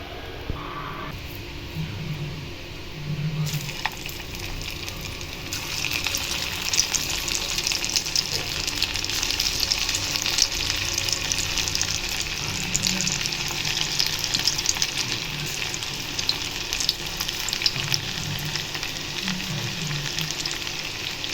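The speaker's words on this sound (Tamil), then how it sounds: "இப்போ கொஞ்சமாக எடுத்து நம்ம எண்ணெயில் போட்டு பொறிச்சு எடுத்துடலாம்" Pakoda batter deep frying in hot oil in a kadai, a steady loud sizzle and crackle running throughout with occasional stirring bumps, no talking.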